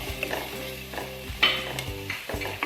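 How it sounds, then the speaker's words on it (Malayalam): Ginger, garlic and green chilli sizzle in a hot pan while a spoon stirs and scrapes them in repeated strokes, close and crisp, with no voices. "അതുപോലെ നന്നായിട്ട് 1-2 സെക്കൻഡ് ഇതുപോലെ വഴറ്റിയെടുക്കാം."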